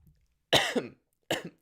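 Two separate coughs from one person, close and fairly loud, the first longer with a rough tail, the second a shorter follow-up after a brief pause in an otherwise quiet room.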